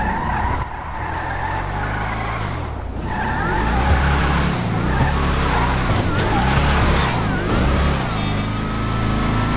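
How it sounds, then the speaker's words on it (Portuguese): A Declasse Tampa V8 muscle car in GTA 5 Online revs and accelerates loudly up close, its engine note rising and falling through gear changes with tire squeal and skidding throughout. "Somzinho, ele tem o som do V8, só que eu acho um pouco modesto"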